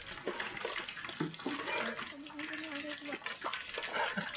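Shrimp cook in a pan for a cream shrimp cheese fondue, giving a soft continuous sizzle and stirring clatter at moderate distance, with brief background voices mixed in.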